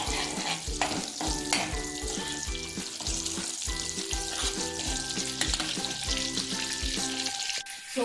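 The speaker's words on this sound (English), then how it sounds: "So while the garlic is browning slightly" Garlic browning in butter and oil in a pot for one-pot mac and cheese, giving a steady close sizzle and frying crackle over repeated low stirring knocks, with background music and no voices.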